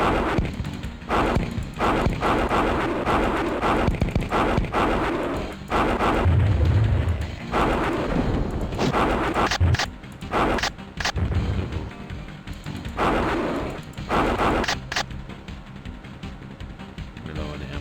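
Long-range missiles fire in the Thunder in Paradise game on DOS. Loud, dense crashes and booming blasts follow one another through a chaotic stretch, with sharper impacts near the middle, under busy background noise and a little talk.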